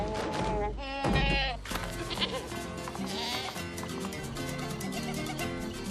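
A goat bleats loudly amid the busy, layered soundtrack of a French comedy film, with music and other sound effects running underneath throughout.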